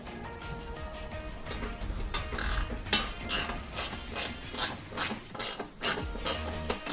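A hand ratchet tightens bolts the rest of the way after they were hand-snugged, giving a close run of quick, repeated metallic clicks in short bursts, with no talk.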